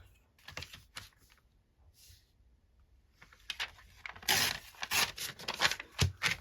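Journaling cards being torn by hand along a line, a few short bursts of ripping paper that get louder and denser toward the end, close by with no talking.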